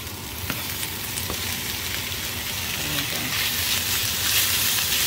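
Mushrooms fry with sliced cheesesteak meat in a hot pan, giving a steady, loud, close sizzle with faint stirring scrapes and no talking.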